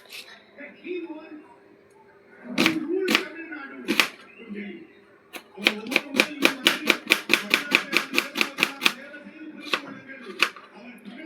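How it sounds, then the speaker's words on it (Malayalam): A knife chops an onion on a board, a few separate sharp knocks followed by a fast, even run of crisp cutting strokes, close and distinct, with someone talking softly between cuts. "അങ്ങനെ സവാള അരിയുകയാണ് ഗൈസ്"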